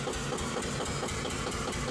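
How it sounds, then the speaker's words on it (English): A 1919 Cummins engine, one of the company's earliest, runs steadily with a dense, even mechanical chug, close and fairly loud, with no talking. "a 1919 engine, one of the first Cummins engines that we'll have some video with"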